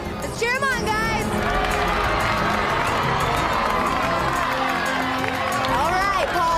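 A crowd cheers and shouts during a concrete slab record attempt, a loud continuous roar of voices with whoops and children's yells, while someone talks over the noise.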